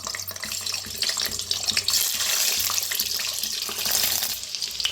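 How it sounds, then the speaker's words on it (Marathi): Eggs sizzling in hot oil in a kadhai for egg curry, a steady, close, hissing crackle that fills the whole stretch without any talk. "तर अंडा फ्राय करून घेऊया."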